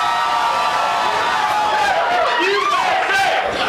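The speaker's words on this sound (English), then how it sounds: "If you think Ellen should pick Tank, give him a cheer now" A studio audience at a live improv comedy dating-game show cheers loudly and steadily, with whoops and shouts rising through the noise, plus a few voices talking within the crowd.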